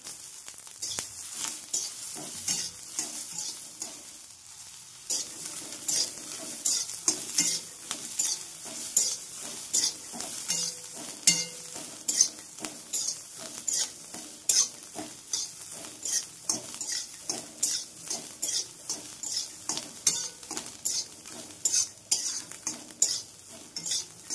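Garlic cloves and green chilies roast in a pan for thecha, a soft continuous sizzle under frequent rapid scraping and tapping of a spoon or spatula against the metal, close and steady throughout.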